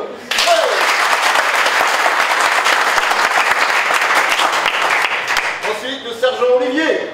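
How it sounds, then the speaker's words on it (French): A room of people applauding the training team at a first aid training ceremony, loud sustained clapping that fades at the end into scattered claps and voices. "je pense que l'équipe de formation, elle mérite qu'on l'applaudisse"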